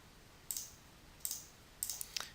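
Three distinct, quiet mouse clicks sound at steady intervals at a computer desk, the last a quick double, against a near-silent background.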